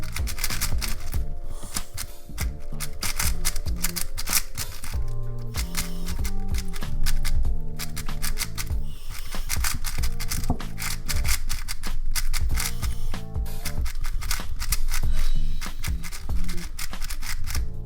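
A Wuque Mini M speed cube turns in the hands, a rapid run of dense plastic clicks and clacks, close and continuous with brief pauses between bursts of turns.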